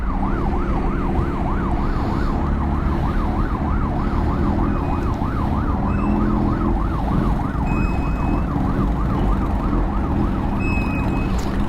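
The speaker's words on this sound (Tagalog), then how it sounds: "Padaanin muna natin ang ambulansya." Loud ambulance siren passing on the road, a steady wailing sweep that rises and falls over and over, close and constant above heavy traffic and engine rumble.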